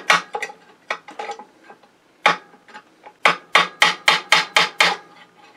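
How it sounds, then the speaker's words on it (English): Light hammer taps drive a metal bell crank down, a quick series of sharp ringing knocks, scattered at first, then a fast evenly spaced run of louder hits. "This is light taps, just tappy tap taps."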